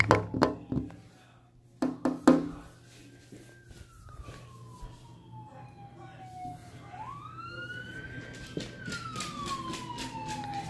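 An emergency siren wails past, its pitch sweeping up and down and slowly falling as it moves off, after a few sharp knocks at the start.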